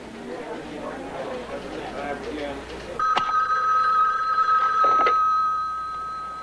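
A telephone rings with a loud, sustained electric bell, one long ring following a stretch of muffled background talk.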